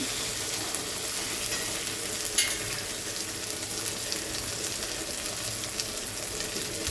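Ginger and garlic spice paste sizzles steadily in hot oil for a chicken curry, a dense, continuous frying hiss that stays close and even throughout, with occasional soft stirring.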